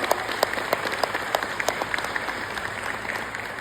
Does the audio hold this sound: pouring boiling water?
no